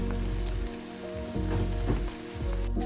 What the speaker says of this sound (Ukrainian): свинячий жир я обсмажую дві великі цибулі